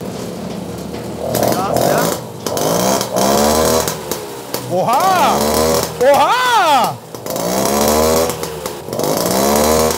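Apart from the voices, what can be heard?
new moped engine running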